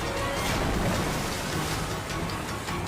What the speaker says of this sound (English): he's trapped under the thundering falls